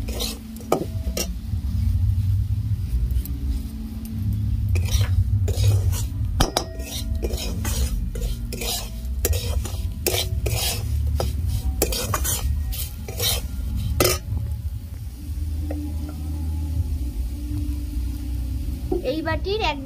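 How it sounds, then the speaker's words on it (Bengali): Semolina and winter vegetables are stirred in a pan for a savory suji, with a spoon clinking and scraping against the metal in a steady rhythm alongside a soft background sizzle, and a voice speaks briefly. "সুজিটা দিয়ে একটু ভালো করে নেড়ে নেব।"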